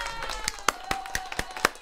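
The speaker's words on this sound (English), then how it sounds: "Let me give you applause for that." Sharp, close hand claps, about eight in an uneven rhythm, sound briefly and on their own with no talking.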